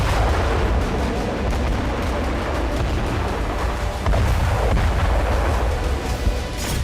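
A BM-21 Grad multiple rocket launcher fires in a sustained, dense roar of overlapping launches and rumbling blasts, loud and continuous throughout with no talk.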